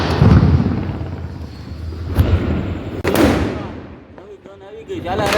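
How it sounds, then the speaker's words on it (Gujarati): Big firecrackers burst during a Diwali celebration, with a couple of sharp, loud cracks and crackling rumble close by, while people talk in the background. "અહીંયા બધા મોટા ફટાકડા પડ્યા છે"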